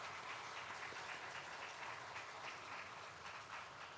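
Congregation in a church clapping together during a Sunday service, a steady, dense wash of applause that holds evenly for several seconds at moderate distance, with no talk over it.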